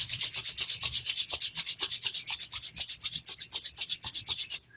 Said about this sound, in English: I invite you to rub your hands together again here at the end.